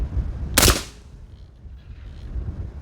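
A single sharp report from a PRI MK12 .308 rifle fitted with a suppressor, fired outdoors, a loud short crack that quickly fades into quiet background.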